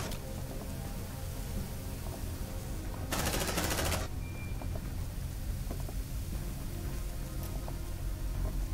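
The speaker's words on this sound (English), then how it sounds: "Deploying sentry gun." An automated sentry gun firing in the video game Aliens Dark Descent, a dense burst of rapid shots lasting about a second, standing out over a constant backdrop of game ambience and rumble.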